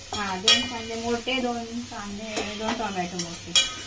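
Onions frying in a pan and being stirred, giving a low sizzle with occasional sharp scrapes and clinks from a utensil, heard mostly beneath someone talking close by.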